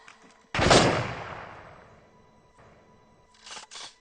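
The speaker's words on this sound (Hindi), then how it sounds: "तैयार, लोड करो, फायर, फिर से," A single loud gunshot cracks nearby and its echo decays slowly, followed by a faint report and then a pair of short, sharp shots near the end.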